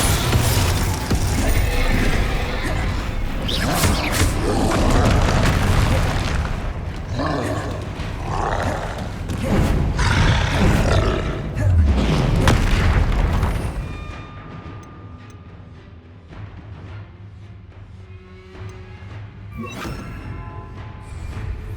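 Booming, roaring spell effects and crashing impacts in the Hogwarts Legacy video game, loud and dense for most of the stretch before easing into quieter clanks and rumbles toward the end.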